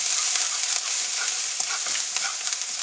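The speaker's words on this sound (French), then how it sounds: "on va faire revenir dans une cuillère à soupe d'huile le gingembre et l'ail très rapidement" Ginger and garlic frying briskly in a spoonful of hot oil in a wok for General Tao chicken, a steady close sizzle with light stirring scrapes throughout.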